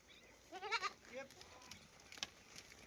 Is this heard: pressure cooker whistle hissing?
no